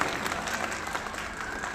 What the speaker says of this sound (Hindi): एक बार पूरे जोश के साथ अपने बच्चों के लिए तालियां दें